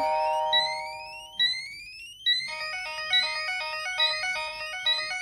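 Phone ringing out a PushOver priority notification alert, loud rising chirped tones overlapping with a warbling electronic alarm melody, insistent and continuous with no voices.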